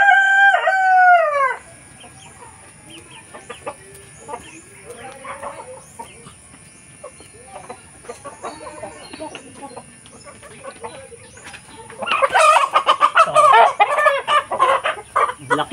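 Native roosters and chickens on a rural farm: a loud rooster crow opens, then scattered clucks and soft calls, and a burst of several birds crowing and clucking together near the end, nearby.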